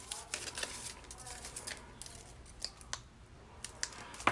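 Scissors trimming excess paper on a handmade card, a run of faint, close snips and light paper rustles spread evenly through the moment.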